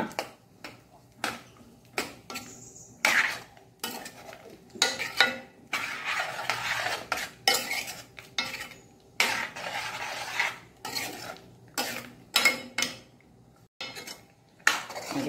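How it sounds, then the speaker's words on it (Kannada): A spoon scrapes and knocks repeatedly around a metal pot of sambar with water just added, irregular stirring strokes with short pauses, close and fairly loud. "ಎಳ್ಳೆ ತಿರುಗಿಸಿಕೊಂಡಿದ್ದೇನೆ."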